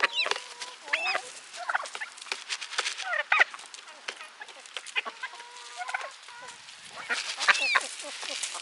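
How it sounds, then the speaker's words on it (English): Ducks honk and quack in a busy, close-up flurry of overlapping calls, bursts of harsh cries scattered irregularly with brief lulls between, loudest near the start and again toward the end. "Most of the ducks aren't very nice, but Willie's nice."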